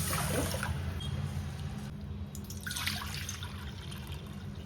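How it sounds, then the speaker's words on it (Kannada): Water sloshes and trickles close by, with soft swirling and dripping as lentils are rinsed in a bowl, with no talking. "ಆಮೇಲೆ ನೀರು ಹಾಕ್ಕೊಂಡು ತೊಳ್ಕೊಳ್ಳಿ."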